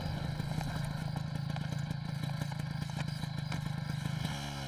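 A motorbike engine idles close by with a steady, throbbing, slightly clattering rumble that stays even before easing near the end.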